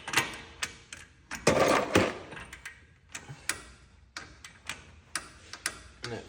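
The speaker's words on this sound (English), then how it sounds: "I'm gonna take my torque wrench that I have set to 47 foot-pounds" A torque wrench set to 47 foot-pounds clicks while tightening a ball joint on a 2006 Ford F250, giving a string of sharp, close ticks and taps, with a louder scraping burst early on.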